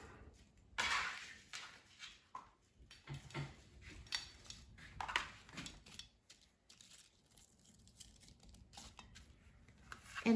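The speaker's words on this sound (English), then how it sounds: "So now I'll put all the apple pieces in a pan." Apple pieces tumble into a pan with scattered close clinks and soft knocks, a few sharper clatters between quieter gaps.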